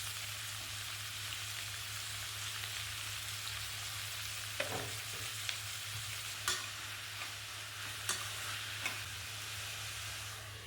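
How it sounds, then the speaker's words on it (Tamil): Onions and tomatoes sauté in a pan at home, a faint, steady sizzle with a low hum beneath and a few soft scraping stirs and clinks. "வெங்காயம் ஓரளவுக்கு வதங்கினதுக்கப்புறம் தக்காளி சேர்த்து அதையுமே நல்லா வதக்கி விட்டுருங்க."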